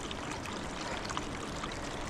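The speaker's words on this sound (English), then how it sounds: "the trail is now a very low flowing waterfall" Steady broadband rush of a low waterfall flowing and trickling over a hiking trail on Upper Yosemite Falls, constant and fairly close, with no voices.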